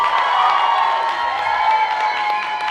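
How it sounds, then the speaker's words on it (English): Crowd at a Sabaku-Con 2024 masquerade awards gives the judges a round of applause, with steady dense clapping and some cheering throughout. "round of applause for your judges there"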